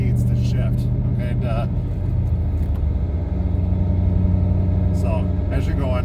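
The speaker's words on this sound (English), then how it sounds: "you're going to hear that just distinct motor as it gets to a certain RPM, where you just know that it needs to shift" A manual transmission car's engine drones steadily at a held rev level while driving, a continuous loud, even hum beneath someone talking throughout.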